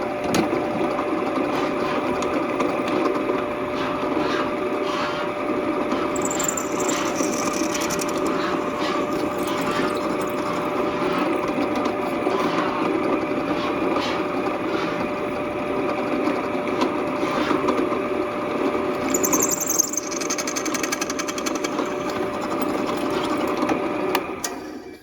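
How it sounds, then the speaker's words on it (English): A power drill enlarges a pilot hole in a Kawasaki ZX6R motorcycle exhaust for mounting, running as a continuous close whirring drone with brief higher-pitched squeals of cutting part way through, and no speech. "All right, so I got my pilot hole in there. Now I'm just going to open this up a little bit."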